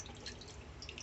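Water drips and splashes while mutton is washed in a kitchen, a brief, close, continuous wet trickle with small droplet spatters.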